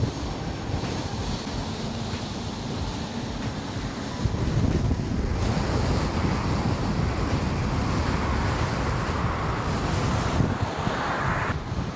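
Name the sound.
strong headwind blowing on the microphone while riding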